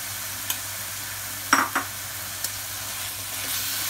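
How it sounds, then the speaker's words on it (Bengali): Mashed boiled potato is stirred into vegetables frying in a pan for a veg burger: a low steady sizzle with a few sharp scrapes and clacks of the spatula. "আলু এই সবজির সাথে ভালো করে মিশিয়ে নেব।"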